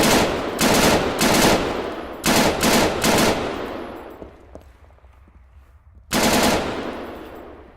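Bursts of automatic AUG rifle fire in Arma 3: several loud, rapid strings of shots, the longer ones trailing off into echo, then a pause before a final burst.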